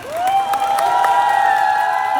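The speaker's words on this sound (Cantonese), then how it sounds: "亦都係再一次俾啲掌聲我哋兩位朋友先" Studio audience cheering and whooping for two guests on a variety show, a loud sustained crowd roar with a rising whistle-like tone running through it.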